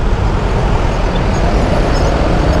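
Dense, continuous roadway rumble from a slow traffic jam in Bandung, with engines idling and creeping close by. It holds a steady, moderately loud wash of noise and no one speaks.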